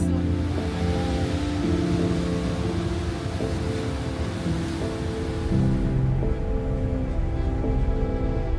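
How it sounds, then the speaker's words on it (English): Big ocean waves crash on the shore along the Garden Route near Knysna, making a continuous heavy roar mixed with wind buffeting, with a surge of surf about midway. "Look at the waves crashing there."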